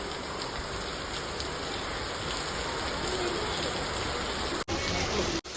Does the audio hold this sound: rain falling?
yes